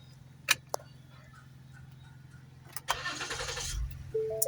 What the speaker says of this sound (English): And it can equally start the car.